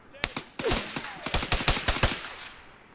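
Machine gun fire in the military shooter game ARMA 3: a few single shots, then a loud rapid burst of gunfire that tails off into echo, with no voices.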